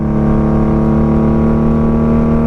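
A 1995 motorcycle fitted with Jardine exhaust pipes holds a loud, steady, close-up engine roar with a deep, buzzy exhaust note at part throttle, with no talking.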